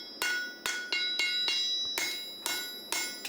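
A farrier hand-forges a steel driving horseshoe for heavy horses, striking it with a hammer: about eight sharp, ringing metallic blows in a steady rhythm, each note fading before the next, close and loud.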